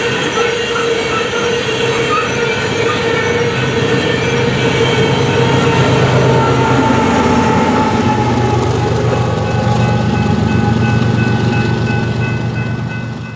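BNSF coal train hauling Tennessee Valley Authority TVAX coal hoppers in southwest Iowa, a loud close rolling roar of wheels and cars with steady squealing tones, sustained throughout and easing slightly at the end.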